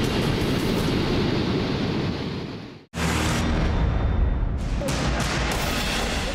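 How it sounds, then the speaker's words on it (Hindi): Roaring floodwater of the Neugal stream in Palampur after heavy rain, a loud, dense, continuous rushing roar that cuts out abruptly for a moment, then resumes just as forceful. "लहरों का शोर इस कदर है कि किसी को भी डरा सकता है।"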